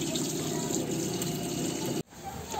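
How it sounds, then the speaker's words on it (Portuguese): Tap water pours steadily into a container in a home kitchen, used to wash chicken before cooking; a loud, close, continuous rush that cuts off abruptly near the end, leaving a softer trickle. "Vou colocar a água aqui normal."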